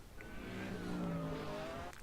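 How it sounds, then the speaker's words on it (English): Fast-moving cars roar past in a steady, loud engine drone whose pitch slides gradually downward, with a thin squeal riding on top and no talking. "The cars are moving fast."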